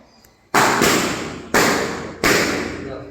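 Birthday balloons popped one after another, three loud sharp bangs spaced about a second apart, each followed by a brief ringing decay, close by with no talk.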